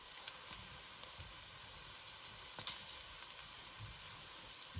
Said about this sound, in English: I'm gonna cook it just a couple more minutes longer to get that bacon done a little more